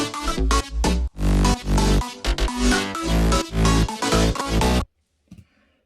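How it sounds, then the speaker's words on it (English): Future bounce synth leads, chords and bass play together in a loud, punchy, rhythmic electronic pattern with choppy bursts. The sound cuts off abruptly near the end, leaving a brief faint tail. "So when you have the leads, the chords, and the bass together, it sounds like this."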